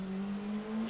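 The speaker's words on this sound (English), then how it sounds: "Is that the Corvette and the Porsche?" A Corvette and a Porsche drive in a racing game, their engines a steady droning hum that rises slightly in pitch over less than a second.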